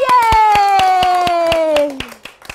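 Children at a Tumble Tots song session clap in a steady, even rhythm after a song. A drawn-out, falling voice-like tone rings above the claps.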